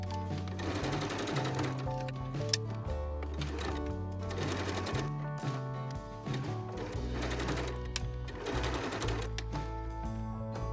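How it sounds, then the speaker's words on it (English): A sewing machine stitches fabric face mask pieces together in loud, steady rhythmic runs with brief pauses and shifts in speed. "with right side spacing, sew the main fabric pieces together"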